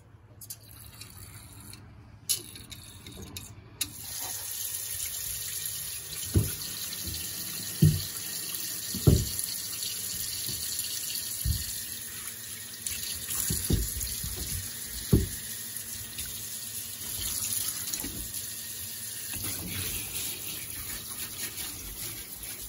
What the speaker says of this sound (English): I'm going to fill the sink up with cold water